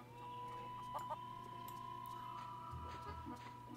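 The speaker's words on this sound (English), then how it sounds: "And there's chickens up in the fort." Chickens cluck in The Curse of Monkey Island, a few short clucks over a steady tonal game background and soft hum.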